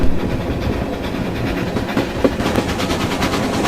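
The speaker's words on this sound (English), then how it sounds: "The engine up the front, working hard, take the long curving stretch of line" A steam train on the West Somerset Railway climbs Washford bank, wheels clicking rhythmically on the rails beneath a steady rumble, heard close from aboard the carriages.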